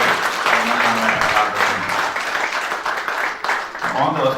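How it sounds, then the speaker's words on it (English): Audience applauding teachers at a medical college alumni meet opening ceremony, sustained dense clapping from a crowd filling the hall with a few voices mixed underneath. "So a round of applause for all the teachers"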